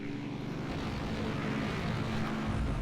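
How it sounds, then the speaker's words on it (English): Enemy propeller aircraft approach a carrier division in the naval strategy game Rule the Waves 2, a steady low droning engine hum held evenly throughout, moderately quiet with no voices. "Enemy aircraft are approaching our carrier division."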